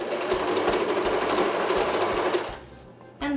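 A sewing machine runs in a fast, steady rattling whir up close, stitching strips of old clothes together for a rug, then stops and gives a short final burst.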